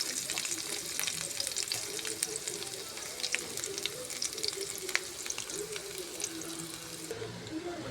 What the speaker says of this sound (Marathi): तेल गरम करून घेतलं, त्याच्यात 2-3 हिरव्या मिरच्या टाकू, थोडं अद्रकचे तुकडे टाकू